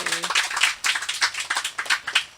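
An audience at a Hunterdon County town hall claps in a burst of applause, dense hand claps rising and falling in waves, fairly close and lively with no talking over it.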